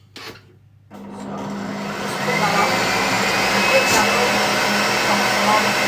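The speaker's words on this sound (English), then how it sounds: "I use my whisk for this" An electric whisk whips fresh cream. After a brief quiet start, a steady motor whir begins, grows a little louder and holds on.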